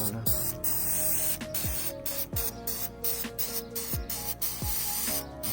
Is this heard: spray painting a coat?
yes